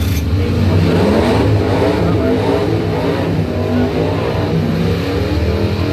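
A big Dodge diesel pickup truck's engine roars and revs as it accelerates hard down a drag strip, reaching 108 mph, the sound sustained and close for several seconds.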